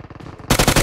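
Automatic gunfire in PUBG Mobile on the Vikendi map: rapid rhythmic bursts, a quieter stretch of shots suddenly giving way to a loud, dense string of close rounds, no talk.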